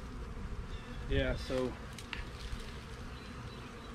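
Honey bees buzzing around a hive during spring cleaning after smoking, a dense continuous hum close by, with a brief spoken word partway through.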